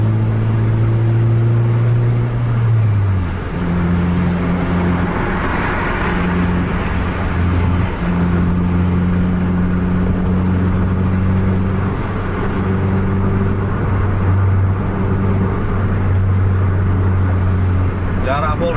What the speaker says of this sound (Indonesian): Tapi ini Awi udah nampak ngegas dia